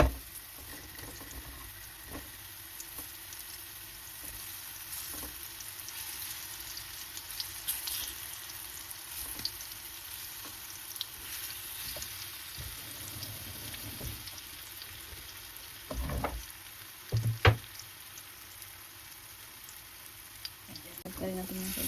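Banana fries in a nonstick pan with a low steady sizzle, broken by a few sharp clinks and scrapes and a louder knock near the end, under occasional quiet talk.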